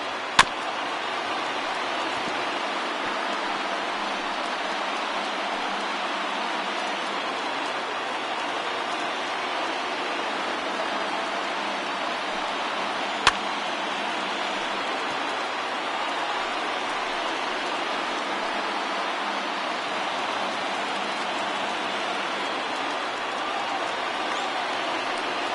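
Stadium crowd in MLB The Show 20 baseball game between the Cubs and Brewers, a steady broad roar of massed fans holding at even loudness through a full-count at-bat, with no talk over it.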